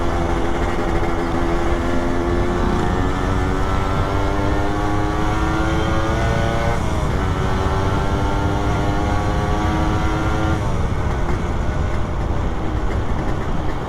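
A Suzuki Satria RU 120 motorcycle pulls hard in second gear, its engine note climbing steadily and loudly with a brief dip partway through before rising again, heard up close with continuous wind and road noise.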